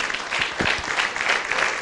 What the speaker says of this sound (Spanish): aplaudimos para recibir la palabra